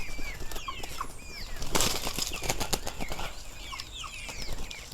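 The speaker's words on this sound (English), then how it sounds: "As you can see, we have the birds." Farm birds on a farm flap their wings in a brief loud burst midway, with chirps and calls scattered before and after over a low background murmur.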